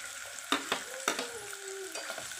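Chopped onion frying in a pan for upma gives a soft, steady sizzle, broken by a few sharp metallic taps and scrapes of a spoon against the pan.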